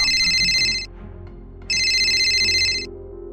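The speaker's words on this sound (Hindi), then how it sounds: "तभी उसका फोन बजने लगा" A mobile phone ringing: two loud, bright electronic ringtone bursts separated by a short pause, heard alone without speech.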